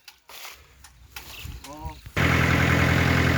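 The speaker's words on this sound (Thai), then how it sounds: "นี่ครับเพิ่นเอารถไถใหญ่นะครับ ดูดเลย" A large farm tractor engine runs a pump drawing water from a pond, its loud steady drone cutting in abruptly partway through after quieter outdoor sounds and a brief voice.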